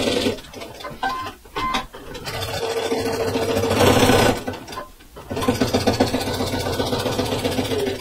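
A sewing machine stitches the facing onto a McCall's 8500 vintage reversible jumpsuit, running steadily at close range with a few brief pauses and restarts, and no talking.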